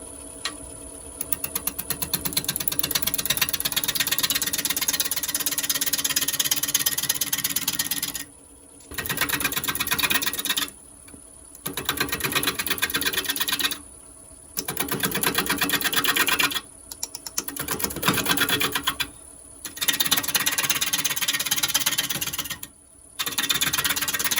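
A wood lathe spins yew at 520 rpm while a half-inch bowl gouge cuts it, producing loud, rough, ongoing scraping in long passes separated by several short silent breaks.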